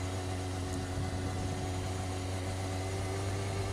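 Kawasaki ZX-6R motorcycle engine idling with a steady, low droning hum and a faint intake note, continuous and fairly close with no talking.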